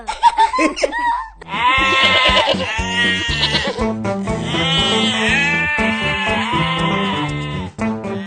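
Goats bleat loudly and repeatedly in a comedy serial scene, overlapping wavering cries that run almost continuously and sound close, with a brief pause near the start.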